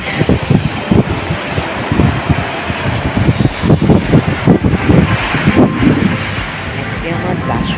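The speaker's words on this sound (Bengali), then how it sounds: "অবিরাম একটা ঢেউ আসছে একটা ঢেউ যাচ্ছে" Surf rolls and crashes onto Puri sea beach in a continuous roar, buffeted by heavy wind noise on the microphone.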